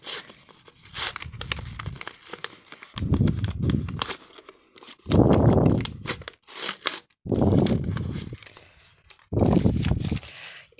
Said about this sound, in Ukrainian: І ми відкриємо перший пакетик.